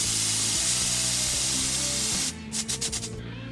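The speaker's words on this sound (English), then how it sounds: "Let me spray one more time." A nail product is sprayed from a can in a loud, steady hiss lasting about two seconds, then stops, followed by a few soft rubbing or handling sounds.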